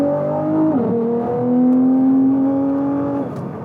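A 2020 Nissan GT-R accelerates in traffic, its engine note climbing steadily in pitch with a gear change partway through, heard from inside the car, loud and continuous with no talking.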